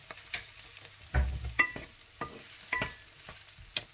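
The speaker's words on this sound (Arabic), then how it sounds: "ملي غطيح لينا البصلة غادي نضيفو عليها هاد الفلافل هادو." Falafel pieces go into a pan of frying onions, giving a soft sizzle broken by several sharp stirring knocks and scrapes of a utensil against the pan, close and fairly quiet.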